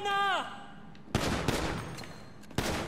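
Pistol shots crack at a shooting range in GTA V on PS4, with sharp, loud reports echoing in quick irregular succession after a brief tonal sound.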